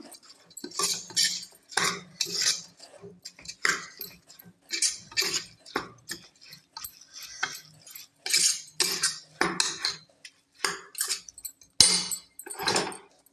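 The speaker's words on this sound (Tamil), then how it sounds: "அரிசி போட்டு நல்லா கிளறி கொடுத்துடலாம்" Rice for a vegetable biryani is stirred in a pot with a metal spoon, producing repeated scraping and clinking bursts in an uneven rhythm, close and moderately loud, with no voices.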